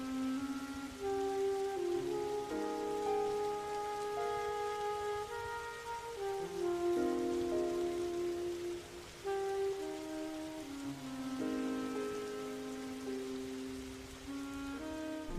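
A somber track from the Halo 3: ODST soundtrack plays with slow, sustained synth and string tones over a soft rain-like hiss. The layered chords shift gradually and stay steady, with no voices.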